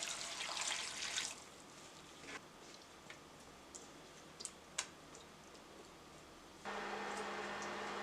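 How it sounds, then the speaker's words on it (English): Water pours over green papaya in a kitchen, a faint splashing stream at the start, followed by quiet scattered ticks and drips, then another soft, steady pour near the end. "So we're going to cover this with water."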